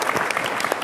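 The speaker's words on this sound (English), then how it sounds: "Give her a round of applause for that." Brief burst of audience applause at a prison reform event, dense clapping heard for under a second without speech.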